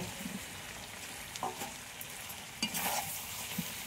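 Potatoes tumble into chicken curry frying over a village clay stove, a soft sizzle broken by a few scraping stirs and clunks, fairly quiet and close.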